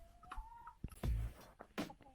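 Chickens on a Scottish organic permaculture croft cluck softly and intermittently outdoors, faint and somewhat distant, with rustling and wind-like background noise.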